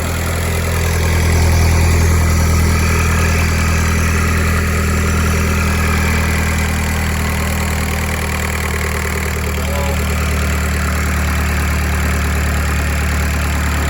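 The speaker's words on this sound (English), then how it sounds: "Idle kicks in, help warm her up in the cold." A car engine idles steadily in cold weather, warming up, with a low, even rumble and a constant hum, running alone without voices for the whole stretch.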